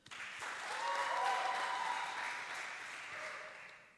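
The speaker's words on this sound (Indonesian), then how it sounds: "Kita beri tepuk tangan dulu." Applause from an audience at a band performance at a theological college in Makassar, a steady broadband patter that swells and then tapers over several seconds, with a faint voice briefly underneath.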